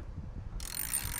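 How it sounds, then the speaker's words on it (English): Quick ratcheting of a wrench tightening bolts on a Ford Bronco roof, a close run of small rapid clicks with a wind-like hiss in the second half. "I'm gonna bolt them down super fast"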